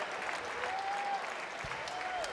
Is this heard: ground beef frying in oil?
no